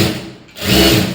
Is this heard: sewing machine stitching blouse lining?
yes